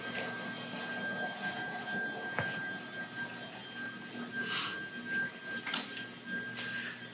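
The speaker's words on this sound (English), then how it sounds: "It's a nice big compressor" A large air compressor runs in a van build shop, giving a steady mechanical drone with a constant tonal whine and a few brief hissing bursts of air over it.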